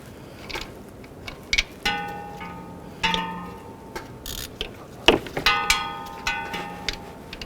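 A ratchet socket wrench works a bolt on the alternator of a 2004-2009 Dodge Durango, giving close, intermittent bursts of sharp metallic clicks and clanks with short pauses between them and no voices.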